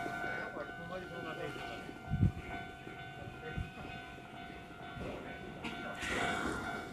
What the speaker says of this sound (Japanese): 3番線にやってきた列車はね、あれはね、多分環球港の新宿行きだと思うんですがね